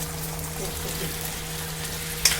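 Cumin, mustard seed, onion and a sesame, ginger, garlic and coconut masala fry in hot oil in a pan, giving a steady close sizzle with a light clink near the end.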